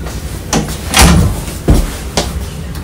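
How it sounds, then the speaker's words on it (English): Hotel room door at a San Diego resort opening with a few distinct thumps and clunks of the latch and frame, close and fairly loud, no voices. "Who's opening the door?"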